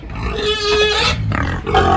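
A farm pig grunts loudly and close by, a run of drawn-out harmonic grunts and squeals that fills the whole stretch.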